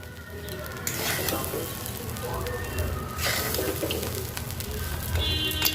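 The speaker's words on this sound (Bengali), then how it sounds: "এরকম মধ্যে মধ্যে জলের ছিটে দিতে হবে, একসাথে দিলে হবে না।" Water is splashed in small sprinkles onto semolina polao frying in a pan, setting off fresh bursts of sizzling and spitting that swell and fade over a constant background fry.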